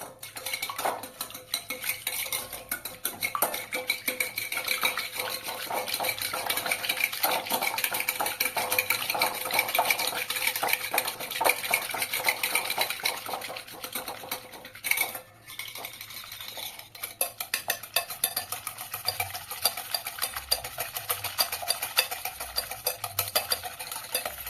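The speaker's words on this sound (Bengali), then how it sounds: "ডিমের সাদা অংশটাকে আমি ফাটিয়ে নেব।" The whites of six eggs are whisked in a bowl until frothy, a fast, continuous metallic clicking and scraping that carries on steadily for over twenty seconds with only brief pauses.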